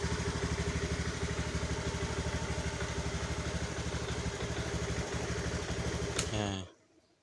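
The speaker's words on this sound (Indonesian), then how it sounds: "kalau di engkol nyala, di engkol kaki ini nyala" Honda Beat FI scooter engine running after a kick start, a steady, evenly pulsing idle close to the mic that holds for several seconds, then cuts out abruptly near the end.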